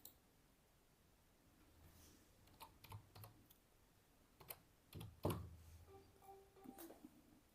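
Keystrokes on a keyboard while a captcha is entered during an online Udyam registration: quiet, scattered clicks in short bursts with pauses, one louder tap near the middle, no talking.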